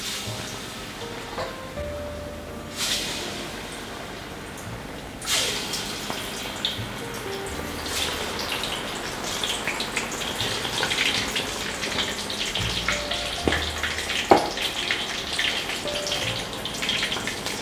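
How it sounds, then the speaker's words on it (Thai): Skewered, batter-coated chicken hits hot oil in a pan and deep-fries with a steady, loud crackling sizzle that swells after being added and continues bubbling throughout, with occasional clinks of utensils. "เอาไก่ที่เราเสียบไม้แล้วก็ชุบแป้งไปแล้วลงมาทอดได้เลยครับ"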